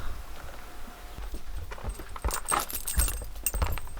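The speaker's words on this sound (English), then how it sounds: "You got the keys? Good catch." Keys jangle and clatter as they are tossed and caught, a quick run of bright metallic clinks and rattles close to the microphone, growing busier toward the end, with no talking.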